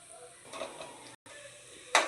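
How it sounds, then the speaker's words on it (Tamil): Small balls of sweet karupatti (jaggery) bonda frying in oil over a low flame, a soft steady sizzle with light stirring clinks, a brief hush, then a sharper crackle near the end. "சுட சுட போண்டா குட்டி குட்டியாக உருட்டி எண்ணெயில் போட்டு எடுத்துருங்க"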